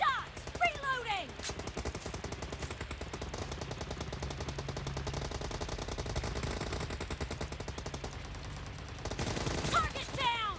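M4 rifle fire in a close-combat video game rattles almost continuously in dense automatic bursts, with overlapping shots from several weapons and brief game voice lines at the start and end.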